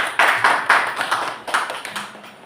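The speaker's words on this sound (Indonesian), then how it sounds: "sebelumnya kita berikan dulu tepuk tangan kepada Pak Fran" A small school audience at a positive-culture dissemination session at SMP N 1 Sipora Utara claps for a teacher candidate, with a sparse run of close hand claps that thins out and fades toward the end.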